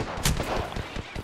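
A Spitfire machine gun fires in Apex Legends as a quick burst of a few sharp reports within about a second, close and punchy.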